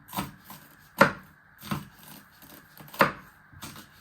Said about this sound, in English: you want to chop these into little pieces